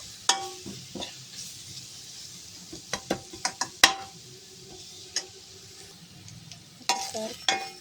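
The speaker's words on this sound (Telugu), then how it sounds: "కొంచెం పసుపు, ఆ వెల్లుల్లి పచ్చివాసన పోయే వరకు ఫ్రై కానిచ్చుకోవాలి" Garlic fries in a pan with a little turmeric, a steady soft sizzle broken by frequent sharp clicks and scrapes of a spoon stirring against the pan, close and fairly loud with no talk.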